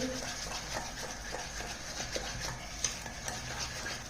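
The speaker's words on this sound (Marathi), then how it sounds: "तेल घातल्यानंतर याला चांगलं फेटून घ्यायचं आहे।" Oil being whisked into semolina cake batter in a bowl, a quiet, fairly quick rhythmic scraping and tapping that continues throughout at low level, with nobody talking.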